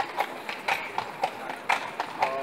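Horse hooves clip-clop in a steady walking rhythm on pavement at the Wrocław Christmas market, moderately close, with a murmur of crowd and voices around them.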